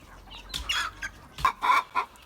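Village hens in a farm coop give several short, bright clucks and squawks in an irregular rhythm, close and fairly loud over a quiet background.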